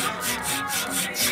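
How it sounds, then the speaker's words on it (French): A hand saw rasps back and forth through wood in steady, rhythmic strokes, close and fairly loud, with no talking. "je vais couper du bois avec une scie comme ceci"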